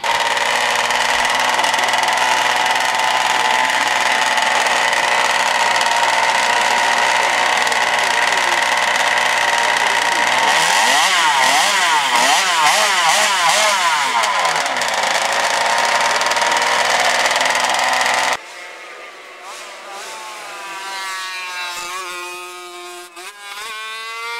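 A 125cc V4 racing motorcycle engine screams at very high revs, holding a steady shrill pitch, then sweeping up and down through repeated rev changes before dropping sharply to a lower, quieter idle-like drone near the end.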